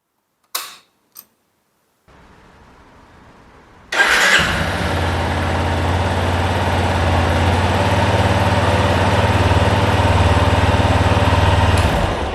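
A couple of clicks, then a brief whir before a Yamaha Lander motorcycle engine, fitted with a chrome exhaust bend, catches and settles into a steady, loud idle close by.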